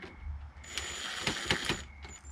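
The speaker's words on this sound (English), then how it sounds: "It's an impact screwdriver." An impact screwdriver drives screws into a Brother HL-2240 printer, several short rattling bursts of hammering clicks close by over a faint motor whine.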